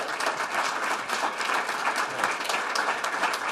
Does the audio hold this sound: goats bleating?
no